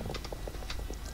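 Horse hooves clip-clop in the Star Stable Online video game, a steady run of light, evenly spaced hoofbeats at moderate level over soft background game ambience.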